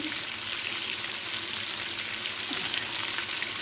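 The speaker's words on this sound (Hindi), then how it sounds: "अब मैं इसके अंदर डालूंगी लहसुन।" Frozen ground garlic hits hot oil in a pot for aloo gosht, giving a steady, dense sizzle that holds at an even level across the whole short stretch.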